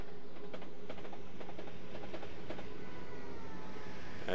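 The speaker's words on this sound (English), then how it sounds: "It's definitely a joy to see the train come around the bends like that." A passenger commuter train in Train Simulator 2014 runs on rails from London to Brighton, with a quiet, steady rolling rumble and faint rhythmic clickety-clack of wheels over rail joints, continuous and distant-sounding with no talk.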